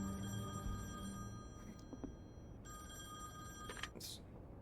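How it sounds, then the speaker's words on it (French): Telephone in The Wolf Among Us, an electronic bell that rings twice in steady tonal bursts separated by a short pause, faint against a quiet background. "J'aimerais bien répondre à mon téléphone, en fait."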